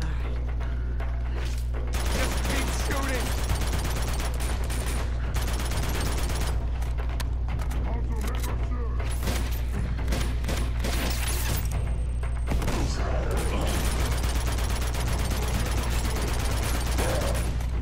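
Continuous gunfire and combat clatter in the game Uncharted: The Nathan Drake Collection, a dense, busy barrage with bursts and mechanical rattles running throughout, with a voice speaking over it.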